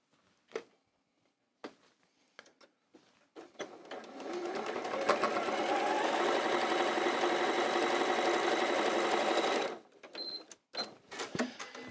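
A sewing machine joins quilt block squares, running steadily for about five seconds in one sustained burst, preceded and followed by brief handling clicks and light knocks.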